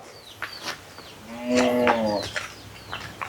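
A Kangeyam calf bellows one clear, mid-length moo close by, surrounded by faint bird chirps and light outdoor background noise.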